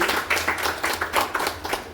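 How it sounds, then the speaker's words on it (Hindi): An audience at a weekly IMC business meeting in Kalwa claps loudly and steadily for International Marketing Corporation Private Limited, a dense burst of hand claps filling the whole moment with no talk over it. "तो एक जोरदार ताली मुझे IMC के लिए"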